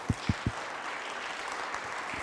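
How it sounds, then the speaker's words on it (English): Audience clapping at a community safety meeting, a few sharp claps at the start then a steady, moderately loud wash of applause throughout. "Let's give him a round of applause."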